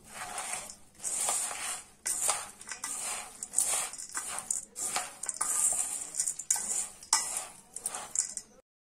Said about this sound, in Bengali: দিয়ে কিন্তু আমি একটু মিশিয়ে নেব।